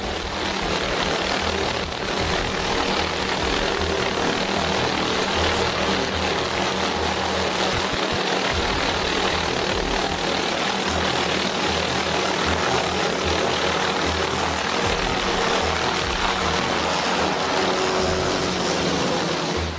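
Helicopter hovering over a snowy mountain among ice-covered rocks during a rescue, its rotor and engine a steady, loud, unbroken roar throughout with no voices.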